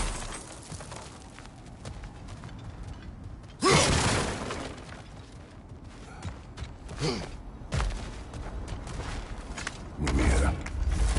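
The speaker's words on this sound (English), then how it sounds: "Back to smashing through things for fun and profit." Objects being smashed and broken in God of War Ragnarök, with several loud crashing impacts spaced a few seconds apart over a low background of creaks and clatter.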